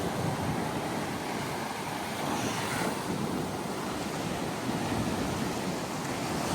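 Waves on Navarre Beach in winter, steady surf washing in as a broad unbroken roar with gusting wind buffeting the microphone, no voices.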